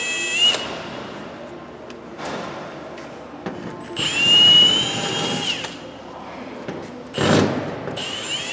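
A power drill removing panel screws from the door of an HVAC unit whirs in several short bursts, the longest in the middle, with clicks and handling noises between them, close up.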